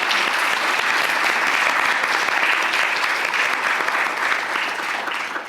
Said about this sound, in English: A round of applause for our panelists, please.